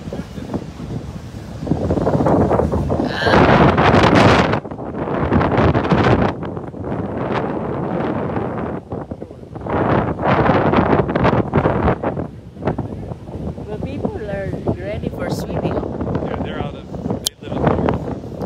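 Strong, steady sea wind at a beach picnic buffets the microphone with heavy low rumble throughout, broken by a few sharper gusts, while someone talks over it.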